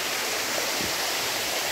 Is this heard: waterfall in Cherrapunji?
yes